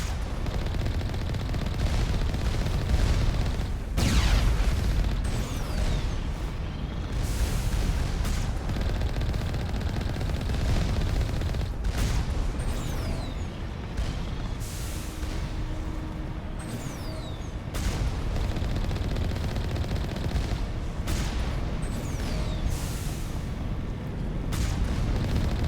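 Sustained gunfire and heavy blasts from destroying turrets in the Mass Effect video game, a dense, continuous barrage of shots and booms with no talking.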